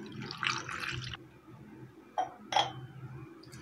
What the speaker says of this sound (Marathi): 1 ग्लास दूध याच्यामध्ये ॲड करणार आहे